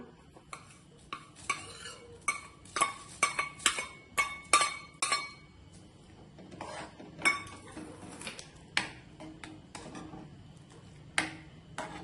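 Vermicelli going into a pot of boiling milk, with scattered metal clinks and scrapes of a utensil against the pot, irregular and close, no talk.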